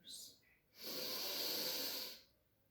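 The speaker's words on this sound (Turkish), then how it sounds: "Ve şimdi tekrar derin bir nefes alın." A long, deep inhalation during a guided meditation, a soft airy hiss swelling and holding for over a second, close and alone after a brief shorter breath.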